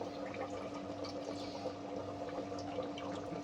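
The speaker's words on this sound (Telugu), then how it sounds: "ఇప్పుడు ఇందాక నానబెట్టుకున్నాం కదండి చింతపండు, అది స్ట్రెయిన్ చేసుకుంటూ" Soaked tamarind pulp being strained for goat head curry, a quiet steady trickle and splash of liquid pouring continuously into a pot.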